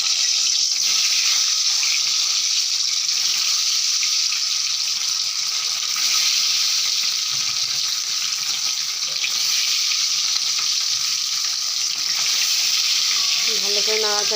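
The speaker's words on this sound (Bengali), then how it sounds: "তারপরে এবার ডিমগুলো এক এক করে ছেড়ে দিলাম।" Eggs cracked one at a time into a hot pan fry with a steady, loud sizzle that runs unbroken throughout, with faint scraping near the end.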